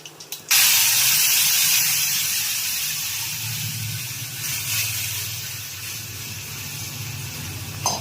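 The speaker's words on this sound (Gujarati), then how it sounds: "મેથી શાકનો વઘાર થાય છે." Tempering spices for a fenugreek curry, with cumin and a little mustard seed, give a loud, steady hiss and sizzle in hot oil. The sound starts abruptly after a brief pause and holds close and continuous for the rest of the time.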